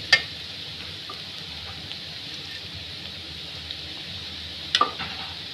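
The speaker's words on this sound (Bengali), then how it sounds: "এখন একসাথে মিক্সার করে একটু করে দিব আর নাড়া দিব।" Potato bhaji frying in a pan and being stirred, a faint steady sizzle with a few soft scrapes and clinks of the spoon, quiet and continuous.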